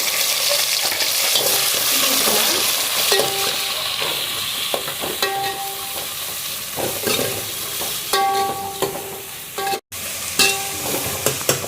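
Small onions (shallots) sizzle and fry in a pan for a Tamil red snapper fish curry, a continuous close crackle broken by scraping stirs and clinks of a spoon against the pan, with no talking.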